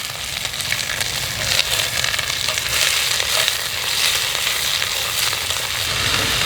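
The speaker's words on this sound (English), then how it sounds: "I do want a little bit of color on the onions" Onions fry outdoors in a backyard on a Solo Stove Ranger, a close, steady, fairly loud crackling sizzle with light stirring texture and no voices.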